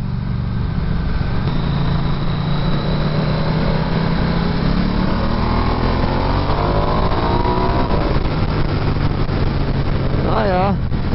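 A 2019 Ducati 1260S Diavel engine rumbles at low revs in fourth gear while riding on a wet road, loud and steady under wind roar, with a rising whine near the end.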